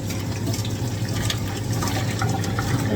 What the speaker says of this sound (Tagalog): Naglagay ako ng konting sabaw kasi gusto ko may tubig-tubig.